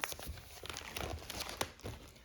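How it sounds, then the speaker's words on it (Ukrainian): Close, quiet crinkling of a plastic vacuum storage bag being handled, a run of short irregular crackles and rustles with no talk. "Також є вакуумний пакет такий"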